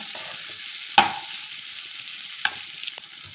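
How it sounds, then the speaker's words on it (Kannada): Tomato chutney ingredients with tamarind and salt fry in a pan, giving a soft, steady sizzle with a few sharp scrapes and clinks as a spoon stirs them. "ಇದೆಲ್ಲ ಚೆನ್ನಾಗಿ ಫ್ರೈ ಮಾಡ್ಕೊಳ್ಳೋಣ ಒಂದು ಎರಡು ನಿಮಿಷ"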